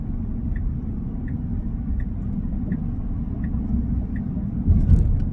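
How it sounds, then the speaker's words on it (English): A Tesla Cybertruck drives on a freeway while merging into traffic, giving a steady, loud low road-and-engine rumble from inside the cab that swells slightly near the end, with no one talking. "so we're on the freeway, merging into traffic here"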